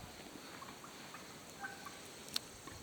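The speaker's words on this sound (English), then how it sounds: "Turkeys." Wild turkeys gobbling faintly in the woods, a few distant calls over a quiet outdoor background with one sharper call near the end.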